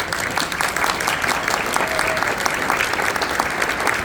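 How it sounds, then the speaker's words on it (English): Luncheon audience at an awards event giving a long, sustained round of enthusiastic applause, dense and even throughout, heard close with no speech over it. "each and every one of you deserves a very long, very enthusiastic round of applause"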